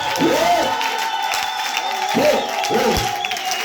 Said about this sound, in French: Est-ce que tu sais exagérer par tes acclamations?